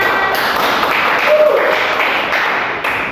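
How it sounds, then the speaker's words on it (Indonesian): A third-grade elementary school class claps together at the end of a lesson, a steady dense patter of many small hands filling the room for about three seconds with a voice audible over it. "Kita tepuk tangan dulu buat kita semua."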